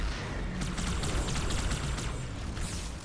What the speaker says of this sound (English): that's a plasma grenade, which is far more powerful